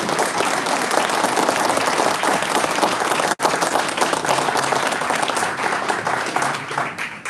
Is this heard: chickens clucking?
no